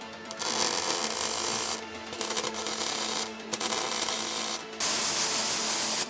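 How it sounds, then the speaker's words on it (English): Steel is MIG welded on the body of an FC Holden under restoration, a close, harsh crackling buzz in several long bursts separated by short pauses. "I'm just gonna weld this bottom as well"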